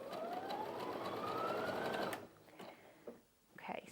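A Brother Innov-is F560 sewing machine stitches a zigzag in a steady, close whirring run whose pitch climbs for about two seconds, then stops, leaving faint handling clicks.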